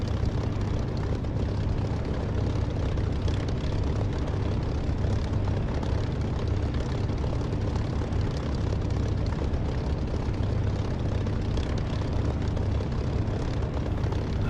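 An aircraft in the DCS flight simulator game roaring through its takeoff with flaps up, a dense, steady engine drone with heavy low rumble that holds loud and unbroken throughout, no speech.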